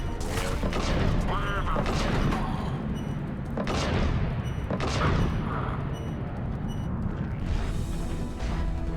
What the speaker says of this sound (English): He's taking fire! Protect him!